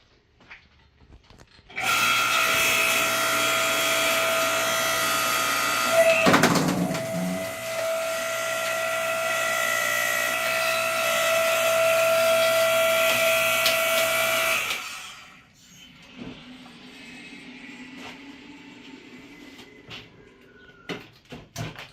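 A Harbor Freight 5-ton electric log splitter drives through a 6–7 inch oak log, its steady loud motor whine and grinding lasting about thirteen seconds, with a brief crack partway through before the motor cuts off and quieter handling noises follow.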